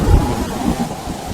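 Steady heavy rain hisses, with a low rumble of thunder rolling underneath; no voices.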